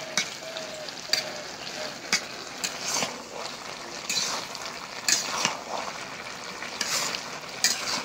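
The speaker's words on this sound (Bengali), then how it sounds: "একটা মাছও ভাঙবো না, সেভাবে নাড়াচাড়া করা যাবে" A pan of fish head curry with fried khalisha fish and coriander leaves is stirred gently over the heat. The frying sizzle is close and continuous, broken by repeated soft scraping strokes of the spoon. Nobody speaks.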